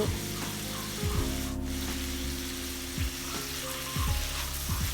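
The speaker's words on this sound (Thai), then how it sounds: "แล้วก็ผัดกุ้งกับน้ำมัน แล้วตามด้วยกระเทียมพริกไทยที่เราโขลกไว้" Shrimp stir-fried in vegetable oil with pounded garlic and pepper, a steady sizzle with low humming underneath and a few stirring scrapes, with no talking.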